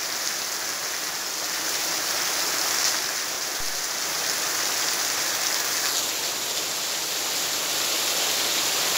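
Steady rain falling, a dense, even hiss of precipitation that continues without a break, fairly loud and close, with no voices.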